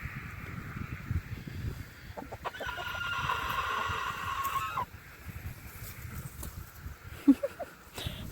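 Backyard chickens squabble over a dust bath with quiet, scattered clucks and a few sharper squawks and calls, heard at a moderate distance over faint outdoor background noise.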